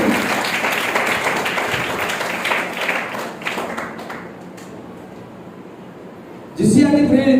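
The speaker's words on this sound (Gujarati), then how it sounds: "એમનું પણ આપણે તાળીઓથી વધારીશું" Audience applause at a taluka-level school maths, science and environment exhibition closing ceremony, a dense wash of clapping that swells loudly for several seconds, thins out, then returns in a sharp burst near the end with voices mixed in.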